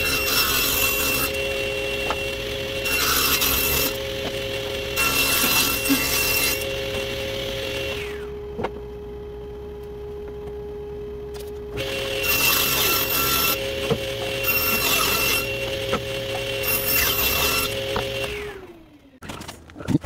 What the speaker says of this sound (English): I'll just be running them through the saw and the planer